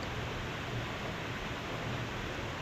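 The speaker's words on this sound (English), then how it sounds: "another dip in the final waterfall" Water rushes continuously over a waterfall in Slovenia in April, a dense, even roar heard up close with no voices and no break in the flow.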